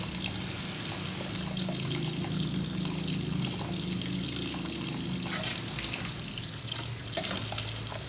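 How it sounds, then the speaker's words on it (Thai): Cold tap water pours steadily onto boiled sweet bamboo shoots, a constant rushing, splashing stream heard up close with no talking over it. "เปิดน้ำเย็นใส่เลยจ้าพี่น้อง"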